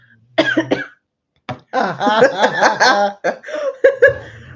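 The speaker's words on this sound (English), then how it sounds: "I'm getting a cough now." Several loud, close coughs in uneven bursts, a short hack, a pause, then a longer rough coughing fit that trails into a few more coughs.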